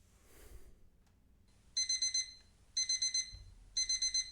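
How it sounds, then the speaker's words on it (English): A computer timer alarm on an AI assistant rings in three separate bursts of rapid, high electronic beeps, each a quick run of four or five tones, with quiet gaps between and no talk. "There's our timer."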